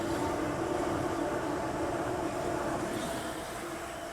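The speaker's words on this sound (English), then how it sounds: "Monorail." A monorail train passes with a steady droning hum and rolling rumble, fairly loud and sustained before easing slightly toward the end, with no voices.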